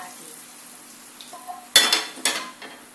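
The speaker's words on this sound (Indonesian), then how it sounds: "kita tuangkan bawang putih dan minyaknya ini ke dalam tumbukan" Hot garlic and oil poured onto ground bird's eye chilies for sambal bawang bursts into loud sizzling, two sharp crackling surges after a quiet moment, then fading hiss.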